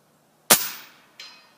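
A single sharp crack from a Sam Yang Recluse air rifle, fired at a target 100 yards away. A faint distant smack follows about 0.7 seconds later, and silence surrounds both sounds.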